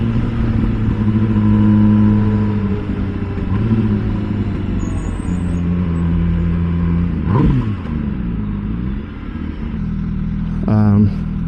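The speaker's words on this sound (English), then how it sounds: "this is a 2023 MV Agusta Brutale" A 2023 MV Agusta Brutale 1000 RS motorcycle rumbles steadily while riding, its engine note holding fairly loud and close, with a couple of brief rev swells partway through and near the end.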